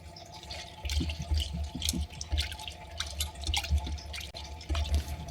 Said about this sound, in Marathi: त्या आहे ना स्वच्छ एक दोन ते तीन पाण्याने धुवून घ्यायच्यात